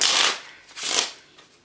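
A deck of playing cards is shuffled twice, close up: two brisk riffling bursts, the first louder, then a quieter tail.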